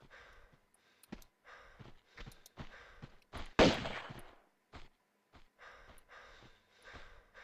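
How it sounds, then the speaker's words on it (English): In the Tomb Raider II video game, repeated breaths come in short bursts with quiet gaps between them, broken by one loud sharp bang midway through. "I can, like, hear breathing."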